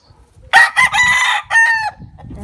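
A black rooster crows once up close, a loud, bright cock-a-doodle-doo in a few broken segments lasting over a second, with soft clucking and murmuring around it.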